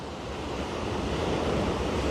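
Sea waves washing and breaking under Margate Pier, a steady broad roar of surf with some wind noise, continuous and fairly close throughout.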